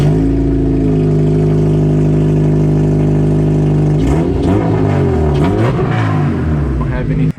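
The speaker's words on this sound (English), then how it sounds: "We want to hear what the car sounds like with open headers, so we're gonna slip this off and then put it back on the ground and start it really quick." A 2007 Honda Civic Si engine running with open headers, a loud, raw, steady idle drone that then rises and falls through several quick revs before cutting off abruptly.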